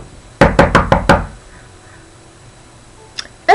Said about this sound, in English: When I knock on the door to see if somebody's in there